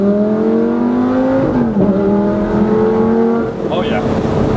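A car engine revs and pulls away, its pitch climbing in steady strides before shifting and rising again, loud and close with a passenger cabin feel; people talk briefly over the engine noise.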